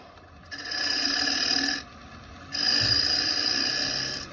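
A carbide woodturning tool takes a slicing cut into spinning wood, raising little shavings in two loud rasping passes split by a short pause, close up with no talk.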